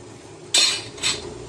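Two brief scraping clinks of a spatula against a kadai while pantua sweets are stirred in not-yet-hot oil, with a quiet pause between them.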